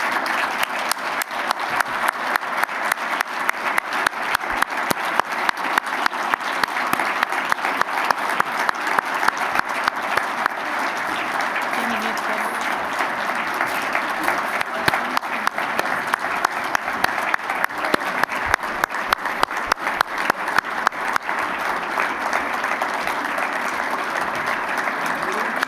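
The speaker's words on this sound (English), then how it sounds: "I would like them to come up on stage and receive a round of applause" An audience at a keynote event gives a long, sustained round of applause as staff come up on stage, dense steady clapping filling the hall from start to finish.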